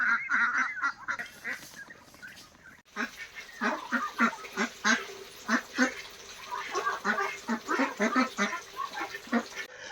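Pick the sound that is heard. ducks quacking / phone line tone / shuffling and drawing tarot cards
ducks quacking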